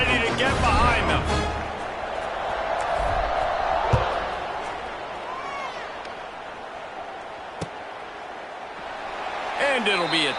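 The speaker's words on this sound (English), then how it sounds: "this crowd now ready to get behind them" A stadium crowd roars at a college football kickoff between Wake Forest and NC State in the College Football 26 video game. The crowd noise is a broad, steady hum that swells mid-clip, with announcer talk at the start and end and a sharp thud.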